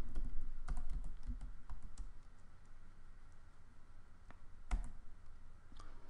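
Clicking keystrokes on a computer keyboard while a command is entered in AutoCAD 2016 drawing software, a quick cluster of close taps at the start and a few scattered presses later, with no talk.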